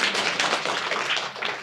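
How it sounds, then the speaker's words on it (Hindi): Applause from a gathering at a Buddhist vihara in Nagpur, a steady, dense patter of many hands clapping for about a second and a half, fairly close and with no talking over it. "जोरदार तालियां"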